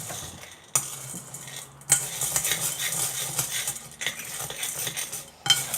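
Spoon stirring microwave popcorn in a bowl with coconut oil, repeated scraping and clinking strokes against the bowl, with a few sharper knocks, close and moderately loud, no talking.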